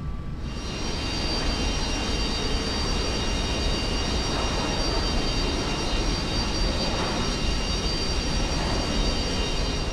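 A simulated airplane engine drones loudly and steadily during a night climb in X-Plane 10, an unbroken engine roar with no voices.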